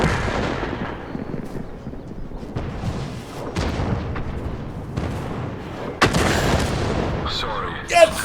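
Artillery booms and gunfire in a tank video game, heavy blasts in a dense, steady barrage that swells near the end, with a voice talking over the combat.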